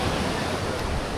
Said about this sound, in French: Il y a des algues puis les vagues qui vont pratiquement jusqu'aux chaises